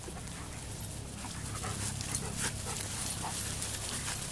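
A pit bull dog panting steadily with soft whimpers, close by and fairly quiet, with no talking over it.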